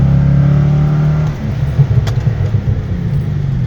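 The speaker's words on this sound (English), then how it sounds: "you know, the engine runs great" An old car's engine runs steadily as it drives around town, a loud close rumbling drone that eases slightly partway through, with no talk.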